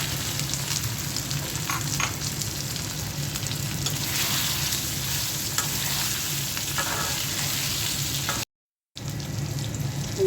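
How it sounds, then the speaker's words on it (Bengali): Food fries in hot oil for an amra (hog plum) pickle, a loud, steady, close crackling sizzle that runs almost unbroken, with a brief cut to silence near the end. "ভালো করে ভেজে নেব তেলের মধ্যে আমরা এটা দিয়ে দিচ্ছি"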